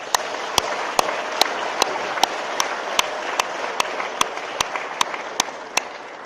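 An audience claps in rhythm, about fifteen sharp, evenly spaced claps over a steady background murmur of the crowd.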